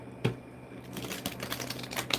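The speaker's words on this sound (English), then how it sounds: "Let me shuffle." Tarot cards are shuffled by hand in a quick run of dry, crisp riffling and flicking taps, close and fairly soft, with no talk.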